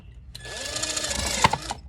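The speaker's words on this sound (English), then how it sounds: "they require a little bit more force to make holes. So I just try to find like the smallest drill bit I have" A small drill bit boring a hole into a thin plastic container lid, heard as one short high-pitched whirring burst of about a second and a half, close and fairly quiet, ending with a brief crackle as it breaks through.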